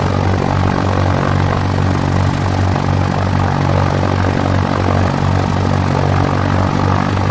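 Simulated propeller aircraft engine in X-Plane 11 on a crosswind landing approach, a steady loud droning hum with a low throbbing pulse that holds evenly throughout, with no talking.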